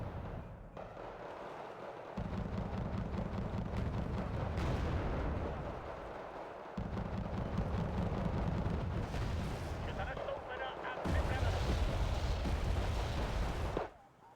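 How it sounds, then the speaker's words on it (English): Mortar fire in a mech combat video game booms in repeated heavy bursts, dense rumbling blasts layered over a constant battle din, loud and sustained with short gaps. "Got double stack of mortars going for some faster indirect fire support."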